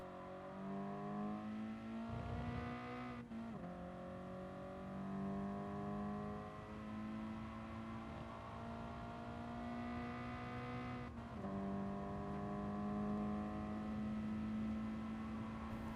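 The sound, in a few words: car engine accelerating in Gran Turismo Sport video game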